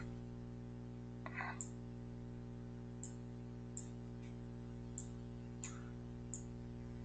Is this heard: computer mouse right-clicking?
yes